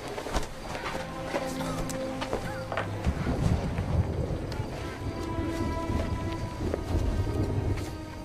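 A night thunderstorm beside a Civil War army camp: heavy rain and rolling thunder fill the scene, with sustained musical tones rising and falling under the storm.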